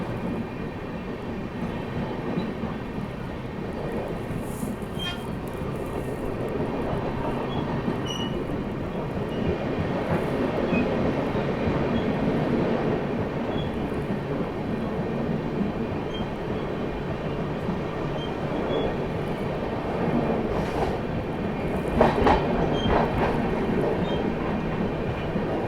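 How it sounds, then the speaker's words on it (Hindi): The Telangana Express runs through Lalitpur Junction, heard from on board as a steady rumbling roar with wheel clatter and occasional clanks and rattles building toward the end, with no voices. "यहाँ पर अपनी ट्रेन जो है ललितपुर जंक्शन स्किप कर रही है"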